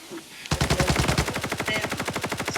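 Loud, rapid automatic gunfire in a video game bursts in after a short pause and keeps going as a fast, even string of dozens of sharp shots.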